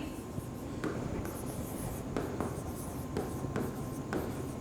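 A pen writes names by hand on paper, giving faint, close scratching strokes with small taps as each word is finished, alone against a quiet room.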